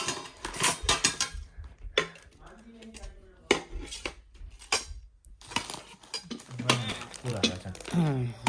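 Metal pots, pans and a rolling pin clink and clatter in short irregular bursts while being packed and handled, close and fairly loud, with a person talking throughout.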